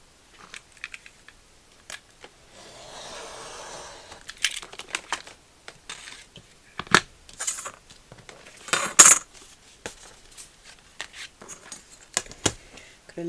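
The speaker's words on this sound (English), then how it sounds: "what I'm going to do to start is I'm going to cut the masterboard to the size of the tag" Masterboard being cut to tag size with scissors, a series of short sharp snips and rustles of card, with a longer crinkling stretch early on, close and intermittent with quiet gaps.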